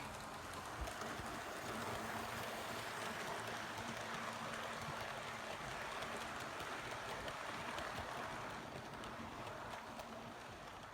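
A Hornby B12 model steam locomotive hauls coaches around a model railway layout, giving a steady, continuous rolling rumble with faint rail clatter throughout and no pauses.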